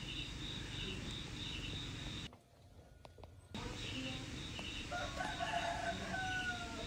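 An F2 jungle fowl rooster crows and clucks in an upland rural setting, moderately loud calls over a constant outdoor bed of insects and ambience, with a short quiet dropout partway through.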